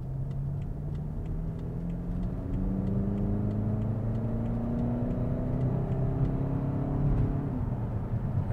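A BMW X5 towing a load accelerates on the road to pass a tractor, its engine note rising steadily in pitch under a constant rumble of tyres and wind, heard from inside the vehicle with no talk.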